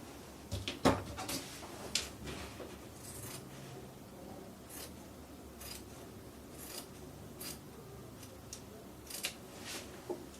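Scissors cutting fabric while draping a bow top: quiet, close snips and rustles, a cluster of sharper cuts early on, then sparse soft clicks and fabric handling.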